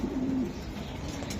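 A racing pigeon gives a short low coo, close and soft, followed by quiet background murmur.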